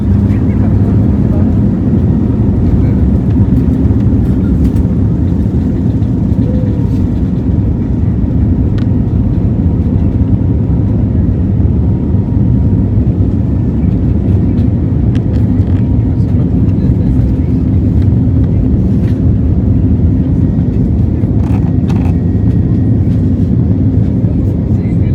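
Inside a passenger plane cabin on a Hyderabad to Kochi flight, a loud, constant low engine drone and rushing air fill the whole stretch, with only faint scattered clicks above it.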